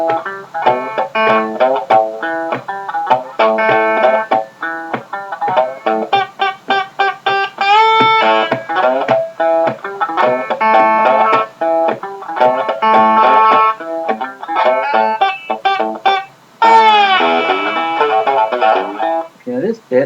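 Chicken-picked country blues stomp on guitar, with an open third string pickup note landing just ahead of the beat. The phrases are bright and snappy, close up, and run for a long stretch with slides and brief gaps.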